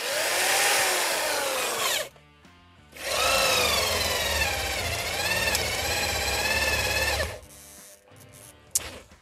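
A hammer drill on its highest setting whines loudly at high speed, stops briefly, then runs again for several seconds before cutting off, followed by a few clunks.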